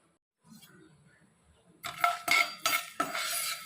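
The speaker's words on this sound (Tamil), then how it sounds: "இதை எல்லாத்தையும் நல்லா வாசனை வர்ற அளவுக்கு வறுத்துக்குங்க" Whole pepper, curry leaves and red chillies dry roasting in a pan for ash gourd sambar, heard as a few sharp scraping and clinking stirs against the metal pan in the last two seconds after quiet rustling.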